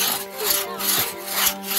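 Close, rhythmic strokes of a hand saw biting into wood, each push and pull giving a gritty rasp, with a slight metallic ring.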